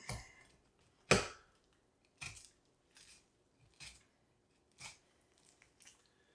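A knife working along the seams of a bone-in ribeye loin on a cutting board, with a string of separate short scraping and tapping strokes, one louder near the start, each followed by quiet.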